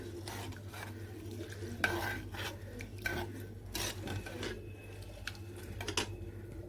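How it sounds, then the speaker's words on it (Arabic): A spoon stirs rice and milk vigorously in a pot, giving quiet repeated scraping and rubbing strokes with occasional soft knocks against the pot. "نقلبه خالص كده جامد بحيث اللبن كله يتقلب في الرز كده"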